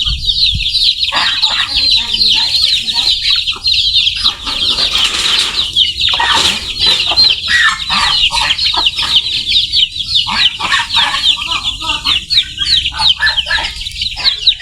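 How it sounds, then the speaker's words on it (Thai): Chickens on a farm clucking and squawking in dense, overlapping bursts close by, with occasional wing flaps and sparse talk. "ไก่"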